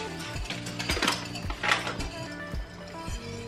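Hand-stirring flour into water in a bowl while making pizza dough, heard as repeated close clinks and scrapes of a utensil against the bowl in an uneven rhythm, with no talking.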